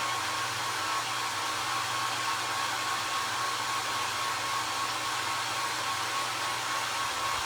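Hair dryer running steadily at close range with a constant broadband whoosh and low hum, drying paint on a homemade patriotic parade float, unbroken for the whole stretch with no talking.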